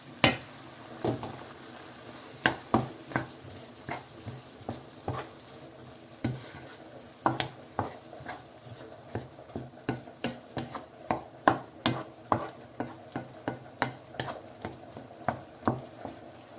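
Ground meat for spaghetti bolognese browns in a pan, seasoned with salt, as a spoon stirs with regular sharp scraping taps against the pan over a faint sizzle, close-up with no talking.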